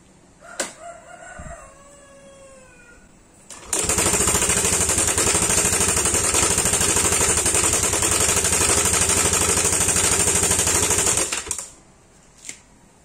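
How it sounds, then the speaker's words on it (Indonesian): After a brief bird call, a Yamaha Aerox scooter engine with a worn cam chain tensioner starts and runs loudly for several seconds with a harsh, clattering rattle, then shuts off. "kita akan nyalain dulu motor Yamaha Aerox sayanya. Kita dengerin suaranya bersama-sama."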